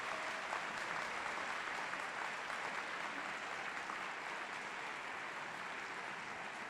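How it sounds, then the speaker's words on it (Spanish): An audience applauds in a steady, continuous wash of many hands clapping, heard fairly faint and distant with no break for the whole stretch. "Un aplauso para él, por favor."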